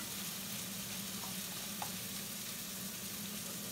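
Long beans and onions frying in a little oil in a pan on the stove, a steady soft sizzle throughout with a couple of faint stirring clicks, no voices.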